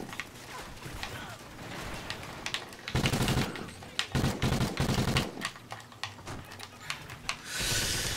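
Gunfire bursts from the video game Call of Duty Ghosts on Xbox One, Kill Confirmed mode, with dense rapid automatic shots, including sustained loud volleys mid-clip and scattered single cracks.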